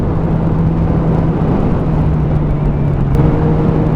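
A Honda CBR 600rr motorcycle cruising on back roads, a steady, loud engine hum with heavy wind rush, holding an even drone throughout.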